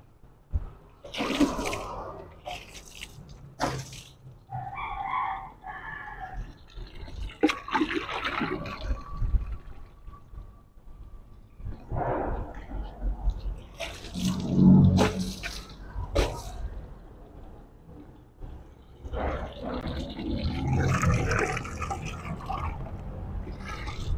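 Water splashes and trickles over a motorcycle being washed outdoors, with irregular bursts of spraying and pouring at close range, steady running water in between and a dog faintly audible.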